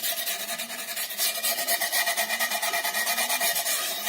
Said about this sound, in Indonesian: Kita amplas semua sisi-sisi bekas potongan.